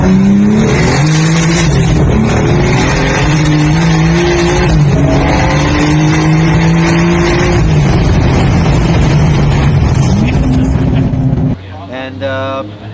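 A 1550-horsepower Toyota Supra drag car on high boost screams through a loud, sustained full-throttle pull with rising engine pitch and gear changes, then cuts off sharply near the end into a lower idle.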